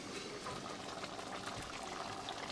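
Red kidney beans (rajma) simmering in a covered pot with cilantro mixed in, giving a steady, soft bubbling hiss that stays even and quiet throughout with no talk.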